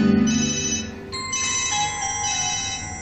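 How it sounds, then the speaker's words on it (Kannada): A mobile phone ringtone plays around half past midnight, a steady electronic melody of bright sustained tones that rings loudly and alone for a few seconds with no voices. "ರಾತ್ರಿ 12:30 ಇದ್ದಕ್ಕಿದ್ದಂತೆ ನನ್ನ ಫೋನ್ ರಿಂಗ್"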